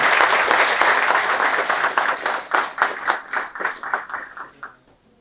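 An audience at a bookstore opening ceremony applauds, dense clapping at first that thins into a few slower, scattered claps before fading out.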